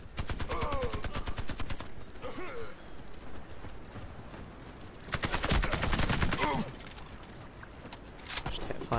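Rapid automatic gunfire in the shooter game Warface, with bursts of quick repeated shots, then a pause and another dense burst, mixed with game effects and a voice talking over parts of it.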